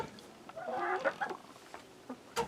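Chickens in and around their backyard coop give a few soft, scattered clucks and short calls, close by and fairly quiet, with no talking.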